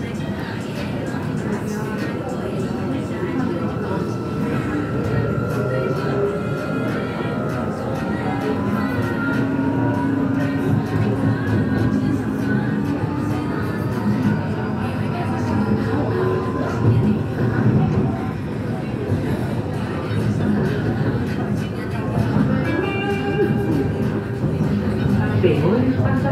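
A CPTM commuter train runs between Barra Funda and Brás in São Paulo with a steady interior rumble, rising and falling motor whine, and rail noise throughout, while speech is heard over the running noise.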